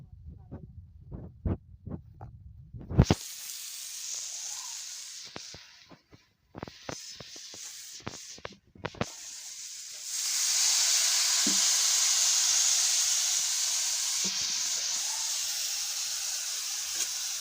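Spices sizzle and fry in a hot pan with a steady, close hiss that starts abruptly after a few seconds of quiet clatter, then swells louder and denser midway and holds continuously to the end.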